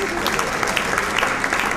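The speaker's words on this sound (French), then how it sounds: "Qu'on applaudisse encore une fois pour la presse" An audience at a fashion show applauds the press, with continuous clapping under a speaking voice.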